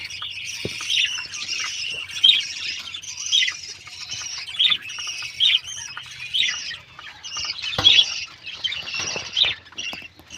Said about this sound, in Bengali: এই যে আমাদের আর এক জোড়া হলুদ পাখি এই যে একটা খাবার খাচ্ছে